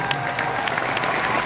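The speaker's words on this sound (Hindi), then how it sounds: "सर के लिए जोरदार तालियां बनता है" A hall audience gives loud, dense applause for a teacher at a Hindi-language motivational event, a brief, steady roar of many hands with a faint hint of cheering.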